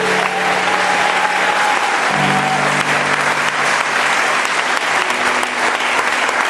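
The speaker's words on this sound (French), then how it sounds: "Pendant que tu es assis, acclame le Seigneur." A church congregation applauds loudly and continuously during a prophet's sermon, a dense, sustained wash of clapping from many hands filling the room.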